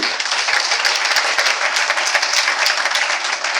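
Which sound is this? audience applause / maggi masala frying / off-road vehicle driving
audience applause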